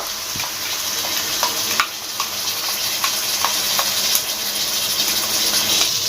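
Spice paste sizzling and frying steadily in a pan for Bengali chicken curry, a continuous close hiss with occasional stirring clicks and scrapes, no talking.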